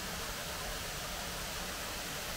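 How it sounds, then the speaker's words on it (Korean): Water from a resort swimming pool at The Nature Phuket runs in a steady, broadband splashing hiss, constant and fairly loud, like a fountain or cascade feature. "풀장에서 나오는 물소리가 아주 즐겁게 들립니다"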